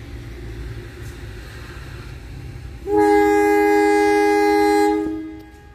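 The Doho passenger train's horn blares in one long steady blast for about two seconds over a low engine rumble as it departs a station in Indonesia, then fades away.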